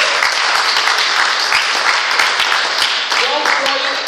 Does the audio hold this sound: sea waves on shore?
no